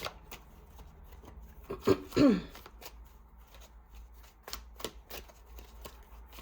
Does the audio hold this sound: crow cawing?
no